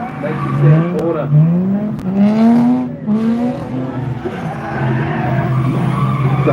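Ford Falcon drifting at Oakburn Park motorsports track in NSW, Australia: tires squeal and skid in long wavering howls under a revving engine, fairly loud and sustained.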